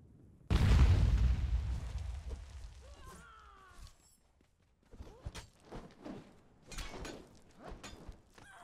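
Bombs go off in a fire in the video game Conan Exiles: one big, close boom that slowly dies away, followed by scattered thuds and clatter.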